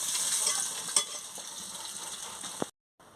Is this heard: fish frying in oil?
yes